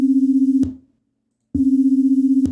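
Two pure tones, C0 and C sharp 0, sounding together a half step apart, a steady hum with a rapid pulsing beat; it stops, leaves a short silence, then returns with the same throbbing clash.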